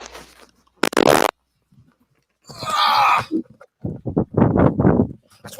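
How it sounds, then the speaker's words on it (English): A loud, rough fart-like burst near the one-second mark, followed a moment later by a longer noisy blast, with short voiced squeaks and grunts after it; no clear speech. "I'm gonna fucking fart again."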